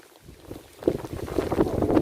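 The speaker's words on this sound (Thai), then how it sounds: "โอ้ลม" Wind gusts outdoors on a cold, rainy April day, rushing and rumbling against the microphone and growing stronger and rougher about halfway through.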